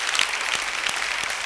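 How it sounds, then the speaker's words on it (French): An audience claps at an awards-style event, a brief, loud burst of dense applause with a few sharper individual claps standing out, lasting about a second and a half with no speech. "je voudrais qu'on vous applaudisse très fort"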